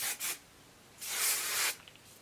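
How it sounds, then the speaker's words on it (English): Hairspray from an aerosol can misted over freshly curled short hair: two quick hissing spurts, then one longer sustained spray, close and fairly soft, with no talking. "I'm just going to spray it all now with some"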